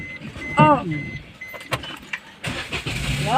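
A car engine cranks and catches close by, followed by uneven mechanical clatter and idling noise, with voices mixed in.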